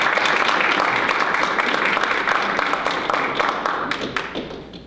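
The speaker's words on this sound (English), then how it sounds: "let's give a round of applause" Audience at a college recruiting evening event applauding, a dense, loud burst of many hands clapping that holds steady and then thins out toward the end, with no talk over it.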